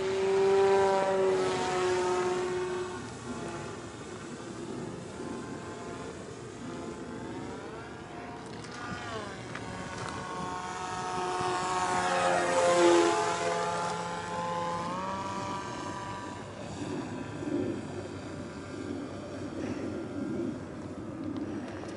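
A fixed-wing drone with a larger motor flies tight turns overhead. Its propeller drone is steady and moderately distant, rising and falling in pitch and loudness through the turns, with a louder pass near the middle.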